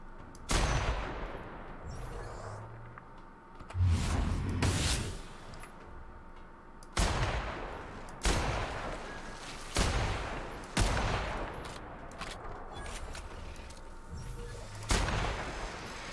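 A player's gun fires in a video game, with several loud, sharp bursts of gunfire spaced a few seconds apart, each trailing off into a rumbling decay over steady game background.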